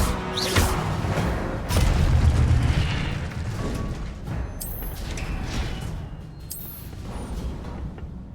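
An Incendio fire spell cast in the Hogwarts Legacy video game: a loud whooshing fiery burst that swells into a rumbling boom, then fades into a lingering crackle among other brief spell effects.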